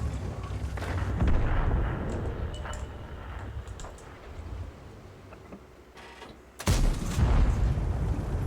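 Heavy tank cannon fire in World of Tanks rumbles with deep booms. A sharp, loud blast lands near the end over a steady low battle din, with no voices.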